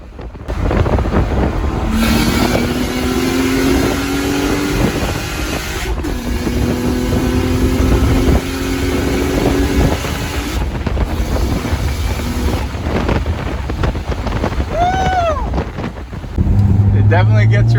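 Turbocharged M52 inline-six swapped from an E36 into a BMW E30 325i coupe, over 400 wheel horsepower, pulling hard through the gears with rising engine tones, gear-change breaks, wind roar and occasional voices inside the car.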